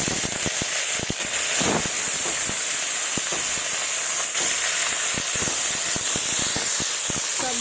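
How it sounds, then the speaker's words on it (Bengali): Small bata fish frying in hot mustard oil in a wok: a loud, steady sizzling hiss with scattered pops and crackles, running unbroken with no voices. "এবার ভালোভাবে ভেজে নেব।"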